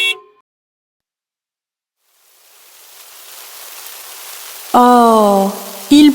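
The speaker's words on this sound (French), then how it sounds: "Oh, il pleut!" Steady rain hiss swells gradually from silence and keeps falling, soft to moderate, with a brief sung voice cutting in near the end over the downpour.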